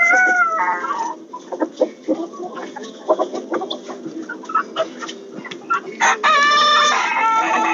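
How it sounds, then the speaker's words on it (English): Chickens at feeding time, including silkies, cluck and crow in a busy farmyard chorus, with a rooster's loud crows rising near the end over steady close clucking. "Chicken feeding time."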